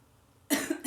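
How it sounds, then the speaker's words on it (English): A single sharp cough bursts out after a brief quiet moment, followed by a second smaller cough, close and loud. "You made me cough."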